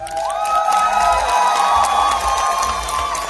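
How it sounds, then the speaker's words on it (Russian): A concert crowd at a live show in Rostov-on-Don claps and cheers for the musicians, a steady mid-level wash of applause with scattered whoops and shouts, fairly thin rather than roaring. "Ну так, какие-то хиленькие аплодисменты гениальным музыкантам."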